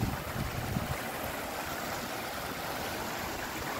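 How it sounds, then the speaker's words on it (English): Several small waterfalls in an outdoor water feature at an RV resort run in a steady, even rush of splashing water, moderately near and unbroken throughout. "Yeah, quite a few waterfalls. Three waterfalls going."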